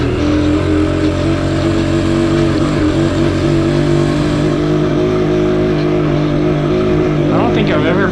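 A Sherco TY125 trail motorcycle engine drones steadily in first gear on a trail, loud and close, with a brief rise in revs near the end.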